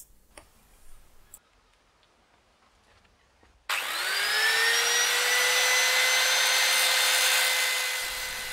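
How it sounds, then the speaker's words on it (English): Metal being ground with a grinder to shape the lip of a homemade frame tool for a Yamaha FZS600 Fazer project: a few light knocks and handling taps, then a loud, steady high whine of the grinder running continuously to the end. "all I'm doing is I'm grinding away some material to create the lip that was on the tool"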